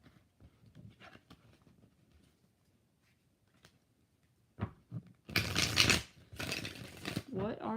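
Tarot cards are shuffled by hand in bursts: soft scattered riffles and taps at first, then a loud dense riffle and a second longer burst near the end, with a voice speaking in between.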